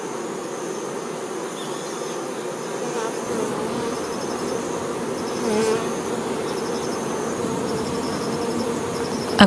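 Dense, continuous buzzing of many honeybees, close and steady, a swarming hum that fills the whole stretch without pause.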